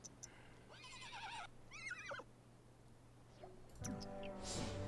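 In a video game, a horse whinnies twice in quick shrill bursts over a low steady hum, followed by soft clicks and a louder chiming, whooshing game effect near the end.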